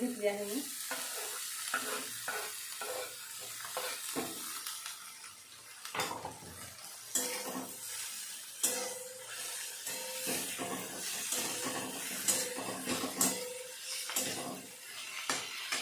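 Tomatoes and fenugreek greens sauté in oil in a pan, with a steady sizzle and hiss and repeated stirring scrapes. Occasional clinks of a utensil against the pan come through, and no one speaks.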